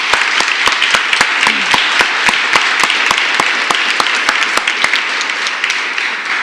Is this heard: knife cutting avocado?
no